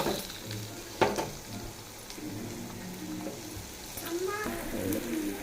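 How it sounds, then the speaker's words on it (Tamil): Shallots sauté in a hot pan with oil, giving a steady close sizzle and frying crackle, with a sharp clink of a utensil and some stirring scrapes. "சின்ன வெங்காயம் நல்லா வதங்கட்டும்."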